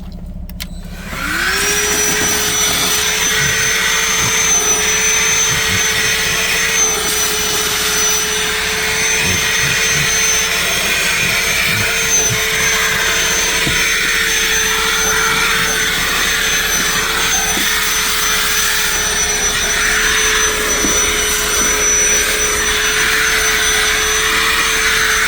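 A Dewalt DCV501H cordless vacuum kicks on after a brief quiet start and runs steadily for the rest of the stretch, a loud, even whine with a constant hum and occasional faint knocks from handling.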